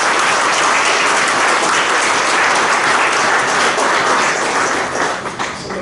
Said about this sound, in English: carry out this vote of thanks to very loud applause